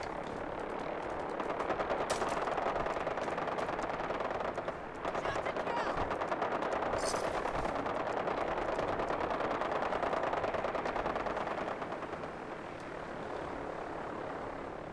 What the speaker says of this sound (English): I love it when there's battles all happening all around.